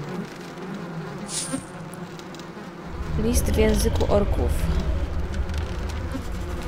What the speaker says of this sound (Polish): te muchy mnie doprowadzają do szału